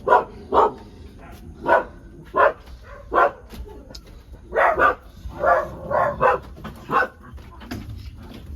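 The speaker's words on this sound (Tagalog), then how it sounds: "May mga aso pa kami." Dogs at a house bark repeatedly in short, fairly close yaps, some in quick pairs, with small whimpers and low background noise between the barks.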